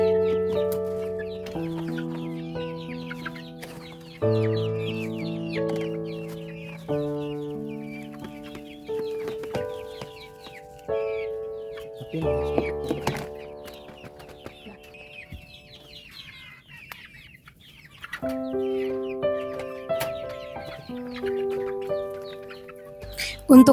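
Chickens in a coop bedded with raw rice husk cluck continuously while being fed, close and fairly loud, with no one speaking.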